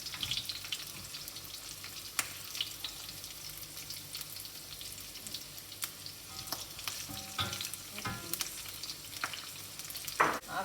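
Small and big onions sizzle in a pan after chili and fennel seeds, for a crab pepper masala, with steady frying hiss and sporadic clinks and scrapes of stirring throughout, no talking.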